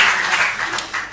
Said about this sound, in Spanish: Un aplauso que eso, que ha sido para Oscar.